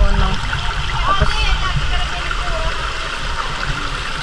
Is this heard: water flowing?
yes